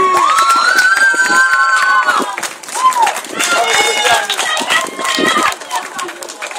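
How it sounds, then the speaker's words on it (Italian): A crowd at a Final Fantasy X cosplay event in Castelverde cheers and applauds loudly, with shouts, claps and voices blending into a continuous, dense roar that barely dips before swelling again. "Un grosso applauso."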